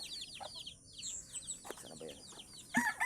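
A native hen with her chicks on a farm, the chicks cheeping in quick high repeated peeps while the hen gives low clucks, close by, with faint talk in the background.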